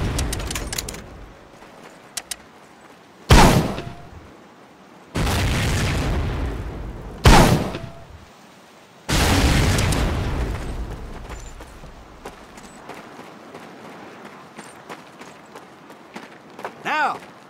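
Mortar shells explode on a mortar range in the World War II shooter Medal of Honor: Pacific Assault: four loud, heavy booms come at irregular intervals, each followed by a rumbling decay, with quieter rustling and faint activity between them.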